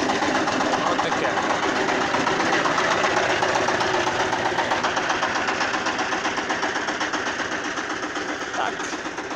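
A Shifeng 350L tractor engine idles steadily on a cold day after a month of sitting, a close, even diesel chugging with a fast regular knock that slowly softens toward the end.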